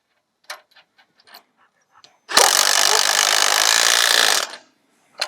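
An impact wrench tightening the bolts of an OzGlide 4.5t Taipan caravan hitch during installation: a few faint clicks and handling knocks, then one loud, steady rattling burst lasting about two seconds, close by.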